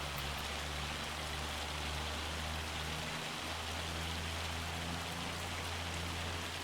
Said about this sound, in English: When's this hail supposed to stop?